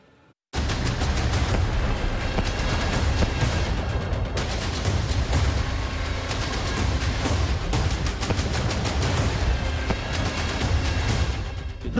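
Gunfire and explosions from the war in Ukraine sound as a sustained, dense barrage of booms, bursts and shots, loud and continuous, breaking in suddenly after a moment of quiet.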